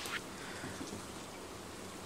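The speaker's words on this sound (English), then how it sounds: "Oh, it's raining again." Steady soft rain falling in the Stardew Valley video game, a faint even wash of patter with no talk over it.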